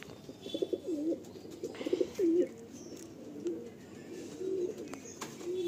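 A Madrasi pigeon in a breeder's loft in West Bengal, India, gives a run of close, low rolling coos in repeated bursts, with other birds faintly audible in the background and no talking.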